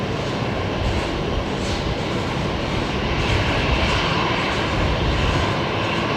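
A jet arriving on runway 19 left at Brisbane Airport on a busy single-runway day: broad, dense engine roar, steady and fairly loud throughout, rumbling like distant heavy traffic with no voices.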